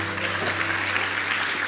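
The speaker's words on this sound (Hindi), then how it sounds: "एक बार जोरदार ताली होनी चाहिए वेस्टीज मार्केटिंग प्राइवेट लिमिटेड के लिए" An audience at a corporate event breaks into steady, fairly distant applause, a continuous clapping texture with a faint low hum underneath.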